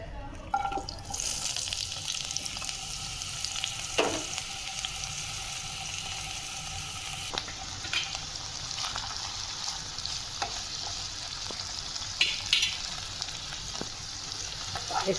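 Pasta ingredients fry together in a pan, giving a steady sizzle while a spoon stirs and scrapes with scattered knocks and clatters; the cooking runs on without talk.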